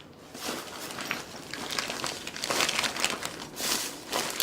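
Plastic bags holding chopped vegetables crinkle and rustle in uneven bursts as they are handled and packed, close and moderately quiet, with no voices.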